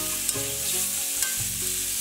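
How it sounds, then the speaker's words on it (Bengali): Curry sizzles and fries in a pan as a spoon stirs it, with a steady hiss under a few sharp scraping clicks of the utensil against the pan, close and moderately quiet, with no voices. "তো আমি তরকারিটা আরেকটু ভালো করে কষিয়ে নেব"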